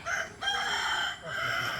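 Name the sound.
rooster crowing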